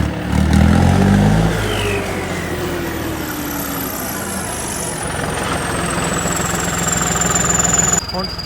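A tractor engine rumbles loudly up close, revving briefly at the start and then settling into a steady idle.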